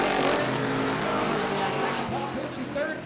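Race cars at New Smyrna race toward the checkered flag in a close drag race for fourth, their engines a loud, continuous roar with a faint tire squeal, heard from trackside under wind and crowd noise.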